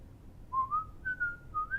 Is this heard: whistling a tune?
yes